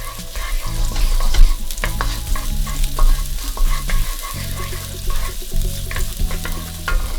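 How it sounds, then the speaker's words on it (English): Garlic and shallots hit a hot pan and are stirred, giving a loud, close sizzle with frequent knocking, scraping spoon strokes against the metal, with no one speaking. "Add your garlic, shallots, give it a stir."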